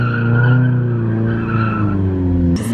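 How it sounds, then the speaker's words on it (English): Car drifting in donuts with an angle kit, tires squealing in a loud, sustained, wavering skid over the engine drone, close by. "they're out here doing donuts over here"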